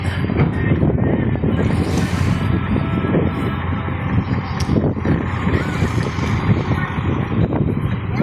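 A repaired boat engine runs steadily out on open sea water, a loud continuous low rumble with broadband wind and water noise throughout.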